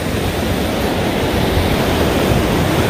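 Steady, loud roar of ocean surf washing onto the Sugar Beach shore in Sipalay, a continuous broadband wash of waves with some wind noise and no talk.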